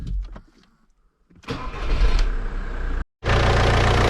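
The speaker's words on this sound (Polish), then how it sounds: "odpalamy jeszcze raz silnik" Quiet clicks, then an Audi A4 B7 2.0 TDI diesel engine cranks and catches into a loud, steady rumble that drops out for a moment before running on, after an oil change.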